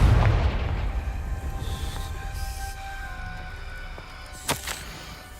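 Blasting-spell explosion in the Hogwarts Legacy video game: a heavy low boom at the start that rumbles and decays over several seconds, followed near the end by a sharp crack and a short second burst.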